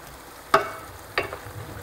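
Meat browning in a pot for a Moroccan prune and meat dish, a low sizzle with two brief bursts of stirring scrapes, close and moderately loud, no voices.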